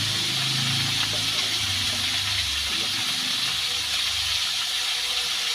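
Vegetables frying with turmeric and salt for a spinach-stem dish produce a loud, continuous, close-up hiss of sizzling oil that never lets up.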